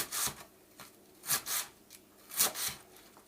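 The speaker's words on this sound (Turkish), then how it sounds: "pırasalarımızı doğruyoruz" A knife slicing leeks for a leek börek, with paired crisp cutting strokes repeating in a loose rhythm, close and fairly quiet.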